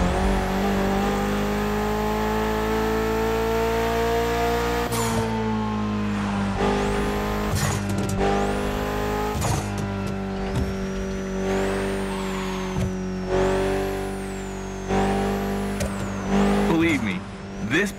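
In a racing video game, a Mitsubishi inline four-cylinder car of about 280 horsepower revs hard and shifts through gears, with rising and falling engine whines, tire squeals and skids, loud and close.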